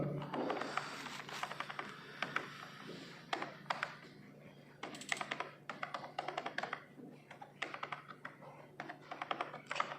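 Typing on a computer keyboard while filling in an Excel salary sheet, with bursts of quick, close key clicks and short pauses between them; no talking.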